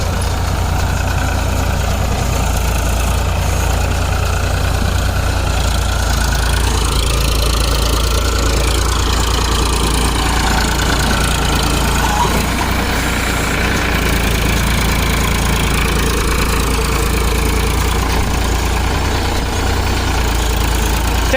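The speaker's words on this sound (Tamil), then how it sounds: "டிராக்டரோட சவுண்டு எந்த அளவுக்கு இருக்குன்னு சொல்லி பாருங்கள்." A Powertrac Euro 47 tractor engine runs steadily at close range, a loud continuous diesel drone with a knocking low rumble that shifts slightly in tone while working a baler in the field.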